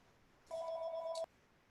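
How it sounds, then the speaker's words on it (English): A telephone rings once during a recorded online call, a short electronic ring of under a second, heard faintly and alone against a quiet background. "Sorry, the phone was ringing,"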